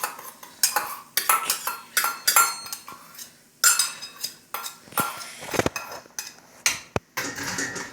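A spoon stirs garlic through food in a bowl, making a close run of irregular clinks and scraping knocks against the bowl, loud and without talk.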